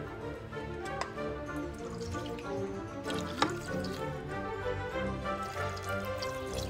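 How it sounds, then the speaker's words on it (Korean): Rice-washing water poured into a pot of rice, a steady close liquid stream and trickle with faint drips and a clink, heard alone without talk. "쌀뜨물 3컵에서 4컵 정도. 자작하니 부어주세요."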